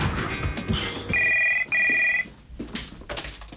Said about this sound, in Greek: Σηκώνεις και το τηλέφωνο μας τώρα.